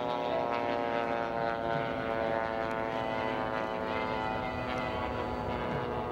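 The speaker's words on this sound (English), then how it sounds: "in the Knight Twister little biplane, working very low to the deck" Knight Twister biplane flying low overhead during a trophy air race, a loud, continuous propeller-engine drone with a strong harmonic buzz that stays steady and near throughout.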